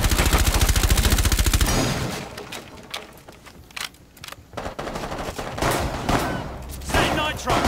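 Automatic gunfire from the Rainbow Six Siege video game opens with a loud rapid burst, then scattered shots, impacts and breaking sounds follow in irregular bursts at varying distances.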